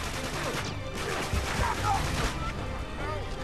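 Gunfire in Uncharted 3: Drake's Deception at a burning chateau, a cluster of sharp shots over loud continuous background game noise, with a voice talking over it.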